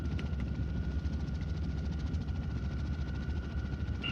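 A massive rescue helicopter hovers near rock walls on Mount Whitney, its steady low rotor thump and engine whine droning loud and continuous with no talk.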